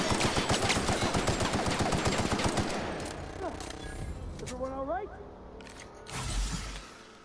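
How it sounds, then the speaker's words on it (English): Shotgun blasts at point blank range in The Outer Worlds video game: dense, rapid loud gunfire in the first few seconds, fading into quieter game effects and a final thud, with a voice talking over it. "I'm shooting you point blank with a shotgun and it's not doing shit"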